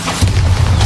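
A Bombarda explosion spell goes off in the video game Hogwarts Legacy, a short, deep booming thump that swells after a brief lead-in and rumbles to the end.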